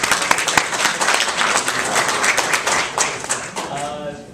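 Audience at a city State of the City luncheon event applauds a sponsor, a dense crowd of claps with some sharp nearby hits, loud and sustained, with voices mixed in and fading toward the end.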